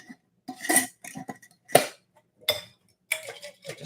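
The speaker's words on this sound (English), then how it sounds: "I'm just going to mix these up now" Utensil clinking and scraping against a bowl while liquid vinaigrette ingredients are mixed, a series of close, uneven bursts of clatter with short pauses between them.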